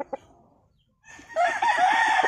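A Boston Roundhead gamefowl rooster gives a few short clucks, falls quiet, then breaks into a loud, close crow that carries to the end.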